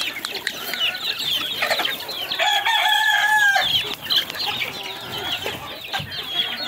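Young chickens clucking and a rooster crowing in a pen, with a clear mid-clip crow over busy overlapping clucks and chirps, close and lively.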